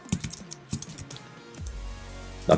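Quick bursts of typing on a computer keyboard while searching for Coin Market Cap, with several soft key clicks, a short pause, then a final sharper keystroke.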